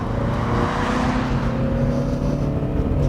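A Volvo V60 Cross Country with a 2-liter diesel engine accelerates under throttle, producing a loud, steady engine drone heard from close by with no talking.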